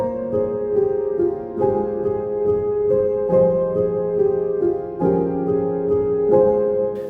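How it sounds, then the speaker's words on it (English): A UK drill counter melody in FL Studio layered over the main melody's chord progression, looping in even phrases with sustained chords, loud and without talk. "hear that with the chord progression from the main melody, it should sound like this."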